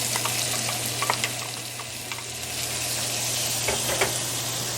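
Onions sizzle in a tablespoon of leftover bacon grease in a Dutch oven, a steady, moderate crackle with a few light stirring clicks over a low background hum.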